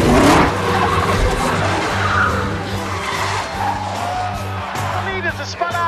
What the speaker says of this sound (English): Oh, there's contact! The leaders are spun out!